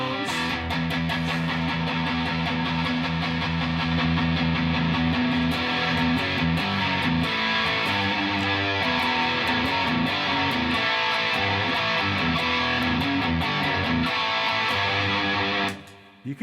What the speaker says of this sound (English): You can get some serious metal tones with the hard tube Big Joe stomp pedal.